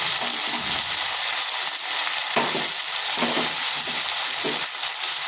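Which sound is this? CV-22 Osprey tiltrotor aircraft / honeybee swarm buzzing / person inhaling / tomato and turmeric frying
tomato and turmeric frying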